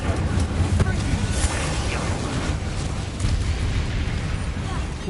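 Incendio fire spell cast in the Hogwarts Legacy video game, a loud sustained roaring burst of flame with crackling texture over a low rumble, lasting several seconds.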